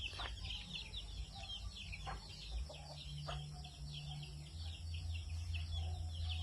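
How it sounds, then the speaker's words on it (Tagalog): Free-range chickens cluck softly and repeatedly nearby in a home garden in Antequera, Bohol, with chirpy bird calls over a low steady background hum. "Oh, akong manok."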